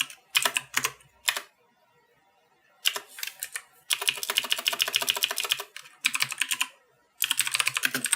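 Rapid bursts of keystrokes on a computer keyboard while entering a firewall command, close and crisp, in several runs separated by short pauses.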